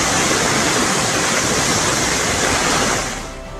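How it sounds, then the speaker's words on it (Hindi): Rushing floodwater in Rawalpindi, Pakistan pours in a loud, dense, continuous roar like a torrent, filling the scene before easing slightly at the end, with no voices. "हर तरफ तेज पानी की धारा है"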